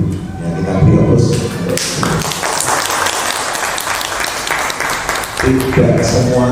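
Audience applause for three teachers at an Indonesian school gathering, a sustained burst of clapping and tapping running several seconds, loud and dense, with talk at the start and end.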